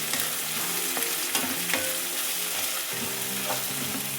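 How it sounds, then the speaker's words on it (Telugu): Chopped spring onions sizzle loudly in a hot pan while a spoon stirs them, with scraping strokes over a constant crackling fry. "ఈ ఉల్లికాడలు కూడా వేసి కలిపేసుకుందాం."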